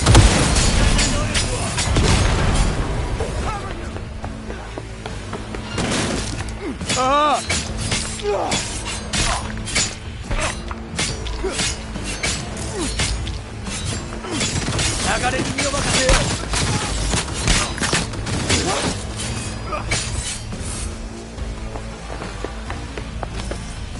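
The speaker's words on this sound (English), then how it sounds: "Opening fire!" Gunfire in the Cyberpunk 2077 video game: repeated loud bursts, shattering impacts and booms over a long firefight, with shouted voices and footsteps in between.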